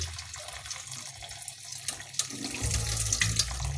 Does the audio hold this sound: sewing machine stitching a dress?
no